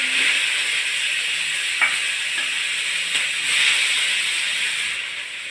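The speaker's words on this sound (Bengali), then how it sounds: "পেঁয়াজটা আমি লাল লাল করে ভেজে নেব" Chopped onions fry in hot oil with bay leaf, dried chilli, cardamom and cinnamon, giving a loud, steady, close sizzle and hiss that runs unbroken, with a few soft stirring touches and no voices.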